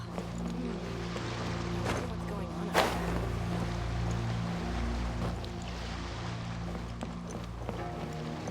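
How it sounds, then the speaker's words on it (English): Calm ocean waves wash softly in Genshin Impact, a steady low surging hiss with faint background tones and one brief louder splash, while a voice speaks briefly. "The waves are as calm as always."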